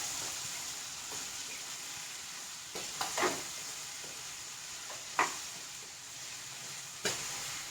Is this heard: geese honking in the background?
no